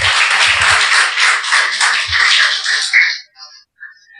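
A church congregation claps together for about three seconds, a bright and fairly close burst of applause that thins into a few scattered claps and quiet.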